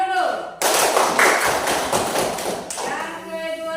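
A fourth-grade primary school class bursts into a dense round of applause for a student, loud clapping from many hands lasting about two seconds before fading, with a voice speaking around it.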